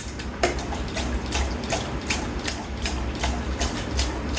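Delco Rochester four-grommet three-speed wiper motor running at low speed with washer, a steady mechanical whir with regular rhythmic clicks and pulses recurring roughly every half second, fairly quiet and close.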